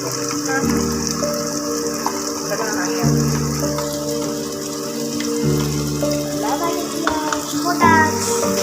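Fish curry fries in a pan with curry leaves, giving a moderate, continuous sizzle with some watery bubbling. Voices talk over the cooking.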